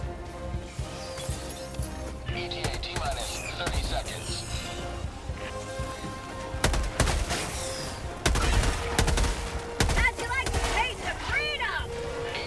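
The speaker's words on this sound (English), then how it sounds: "Something just fired from behind me." Gunfire in Helldivers 2 crackles in bursts from behind the player during a shuttle defence, with heavy volleys, crashes and fusillades over a dense battle din while a person talks at times.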